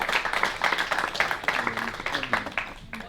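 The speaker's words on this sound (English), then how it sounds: "That's a good round of applause for Jeremiah as well." A college class claps in a room, scattered, uneven hand claps from a small group, mixed with chatter and voices throughout.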